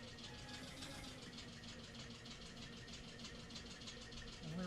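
Tractor engine idling in the video game Eco, a continuous low rumbling drone with a steady mechanical pulse, faint and unchanging throughout.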